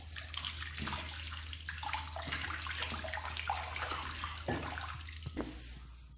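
Curry leaves being washed in running water, a continuous splashing gush from a tap with handling and sloshing through it, near and steady without speech.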